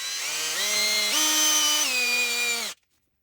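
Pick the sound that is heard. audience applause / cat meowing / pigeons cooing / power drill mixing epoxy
power drill mixing epoxy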